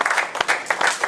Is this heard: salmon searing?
no